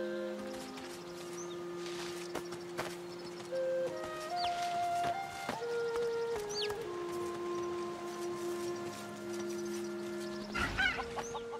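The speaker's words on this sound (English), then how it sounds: "The majestic rooster flaps his jewel-coloured feathers menacingly at the tiny chick" Rooster and chick clucking in the video game Divinity: Original Sin 2, several short fowl calls and clucks over a busy ambient game soundscape with sustained musical tones, a louder burst of bird sounds near the end.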